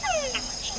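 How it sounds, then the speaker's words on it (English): A red-eyed tree frog calling in a Panama forest, heard as short descending chirps and clicks over a steady background hum of insects, fairly close and with no voices. "That was a red-eyed tree frog"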